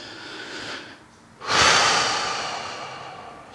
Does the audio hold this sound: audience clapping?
no